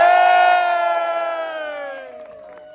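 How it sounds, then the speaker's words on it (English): Wedding guests break into one loud, sustained cheer to welcome the bride and groom. It is a close crowd yell that swells at once and then slowly fades over a few seconds. "Let's give them the biggest cheer ever."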